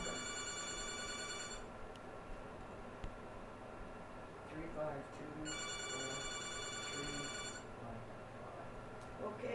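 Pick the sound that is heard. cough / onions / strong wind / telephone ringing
telephone ringing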